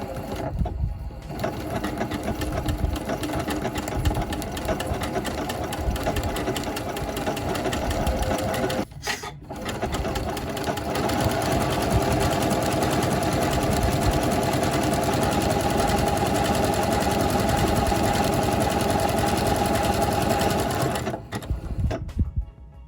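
A sewing machine runs an overcast stitch with an overcast foot along a raw seam edge, making a fast, steady mechanical whirring and clatter at close range, broken by two short pauses.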